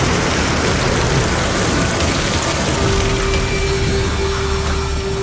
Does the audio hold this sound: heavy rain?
yes